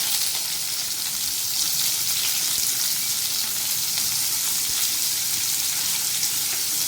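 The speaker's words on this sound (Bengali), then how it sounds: "এবার পেঁয়াজটা এর মধ্যে দিয়ে দেবো।" Onion goes into hot oil with spices for a mushroom masala, producing a steady, even frying hiss that crackles lightly and continues unbroken throughout.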